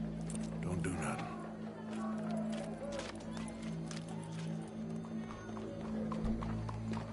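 Horse hooves clip-clop steadily at a trot in the Red Dead Redemption II video game, close and continuous, with occasional neighing, under in-game voices talking and a low ambient backdrop.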